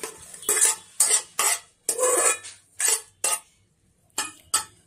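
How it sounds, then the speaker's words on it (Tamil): Cooked small-leaf greens and dal are mashed in a stone pot with a churning tool, producing a series of short, close scraping and clinking strokes in an uneven rhythm, with brief quiet gaps between them. "ஊற்றிட்டு கடைஞ்சிடலாம், உப்பு போட்டு கடைஞ்சிடலாம்"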